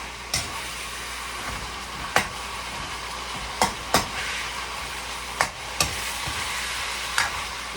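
Meat being stirred in a frying pan to cook off the blood, with a continuous sizzle broken by about seven sharp spoon scrapes and knocks against the pan at uneven intervals.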